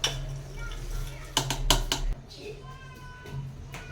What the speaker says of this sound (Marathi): आता हा गूळ एका पातेल्यात घालून घ्यायचं आहे